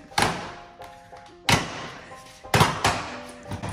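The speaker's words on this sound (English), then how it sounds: "We're going to start taking off all the plastic bits" Plastic trim pieces being pried and pulled off a car for a Gambler 500 build, three sharp cracking thunks about a second apart, close and loud with small rattles between.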